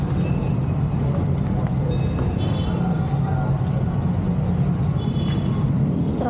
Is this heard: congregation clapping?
no